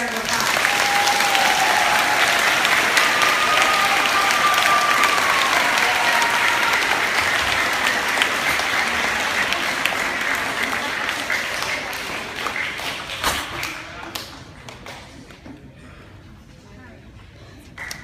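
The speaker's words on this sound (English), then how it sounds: "Please give our 3rd graders a big round of applause." Sustained applause from an audience at a school math and science award ceremony, steady and dense at first, then thinning and fading toward the end as the clapping dies out.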